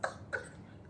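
Two short, soft coughs in quick succession, the second about a third of a second after the first, then quiet.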